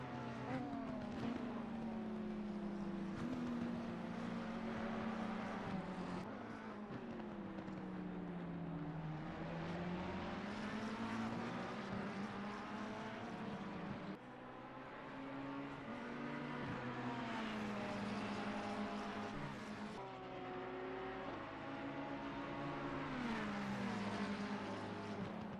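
Ferrari and McLaren race cars at Paul Ricard circuit, engines screaming steadily with rising and falling pitch through gear changes, loud and continuous throughout, with no talk.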